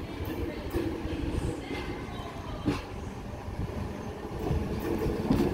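A Tangara T set suburban train, set T20, rumbles along with a continuous rolling roar and occasional rail clatter, close and steady, with voices talking underneath.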